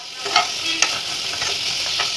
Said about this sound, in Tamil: கிரேவி ரெடி பண்ணுறதுக்கு தேவையான பொருட்கள் எல்லாத்தையும் இந்த பேனில் ஆட் பண்ணி ஹீட் பண்ணிக்கலாம்